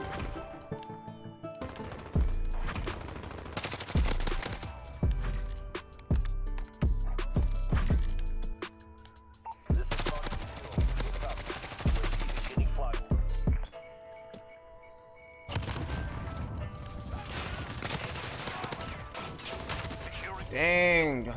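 Rapid gunfire in a Modern Warfare match, with bursts of loud close shots and clattering impacts repeating over about twenty seconds, broken by short lulls, with game effects and talking mixed in.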